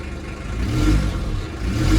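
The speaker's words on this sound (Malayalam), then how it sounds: "ആ ഒരു മസിൽ കാറിൻ്റെ ഫീൽ തന്നെയാണ് വണ്ടി സ്റ്റാർട്ട് ചെയ്തപ്പോൾ ആ ഒരു എക്സോസ്റ്റ് നോട്ട് നമുക്ക് കേൾക്കാൻ സാധിച്ചത്." Up close, the exhaust of a Hindustan Contessa Classic muscle car gives a deep, throaty note that swells as the engine is revved, then holds a steady low drone.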